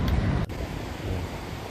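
Water from the lake rushing toward the brink above Niagara Falls, heard as a steady, loud, broadband roar with wind buffeting the microphone, and a brief dip in level partway through.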